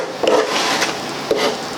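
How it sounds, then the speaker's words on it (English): Wood rasp scraping across a rustic wooden Peloton rack to add dings: two rough, raspy strokes, close and fairly loud, with a short pause between them. "So what I'm going to do is just take a rasp, a couple of places."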